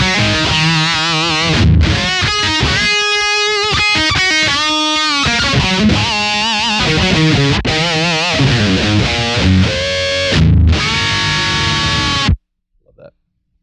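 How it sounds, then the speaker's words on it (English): An electric guitar with heavy overdrive and distortion plays loud chugging riffs and sustained chords, then cuts off abruptly near the end. "Such a good overdrive. That distortion is killer."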